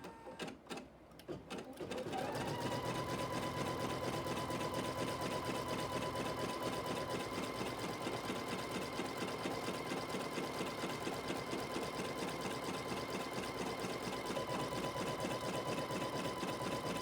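A sewing machine tacks down batting on a flying geese quilt block, starting after a brief quiet moment and then running continuously at a steady, even speed.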